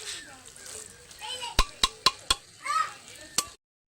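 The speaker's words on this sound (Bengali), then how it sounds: "তো চলো আবার ঢাকনাটা লাগিয়ে দিই" A lid is set on a pot of cooking muri ghonto, a Bengali fish-head and rice dish, producing a handful of sharp metallic clanks over soft sizzling, with a voice speaking.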